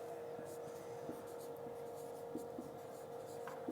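Chalk or marker scratches on a board during a physics lesson on lens combinations, a faint run of light strokes over steady room hiss, with no voices.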